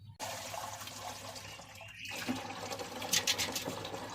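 Flowers and fruit get washed under running water, a steady close splash and pour that grows busier near the end, with no talking.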